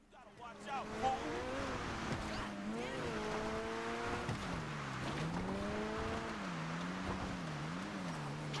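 A car drives in Grand Theft Auto V, its engine note climbing and dropping through repeated gear shifts and speed changes, steady and fairly quiet, with a voice talking over it.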